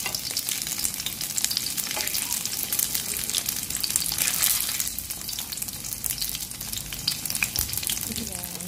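Pork belly sizzles in hot oil, a close, continuous crackle and spatter with occasional stirring scrapes and a brief swell midway, with no voices.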